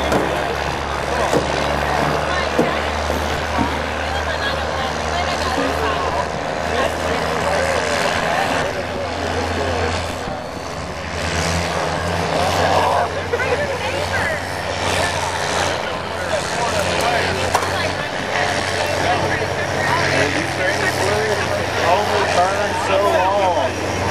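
A Dodge drag racing truck in the Street Class runs hard at a drag strip, its engine and torque converter roaring loudly and continuously with shifting, rumbling tone, while voices talk over it throughout.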